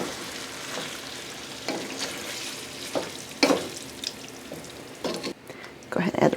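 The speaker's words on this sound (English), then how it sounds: "Give it a stir." Ground beef sauce cooks in a pan while a spoon stirs it, producing scraping, sloshing strokes at irregular intervals over a low sizzle, close by.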